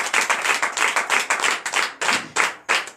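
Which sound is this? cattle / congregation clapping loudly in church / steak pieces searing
congregation clapping loudly in church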